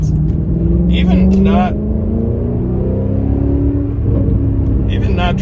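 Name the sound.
Maserati 4200 CambioCorsa engine sound while driving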